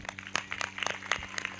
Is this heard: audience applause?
yes